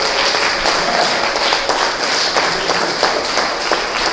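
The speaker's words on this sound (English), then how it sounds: "Give the Lord a round of applause" Dense, steady applause from a large church congregation, loud and continuous for several seconds without letting up.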